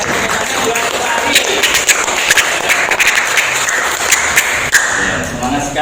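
Audience applause for a presenter at an Indonesian teachers' coaching and academic supervision session, steady clapping from a room of people with a few louder claps standing out, loud and close.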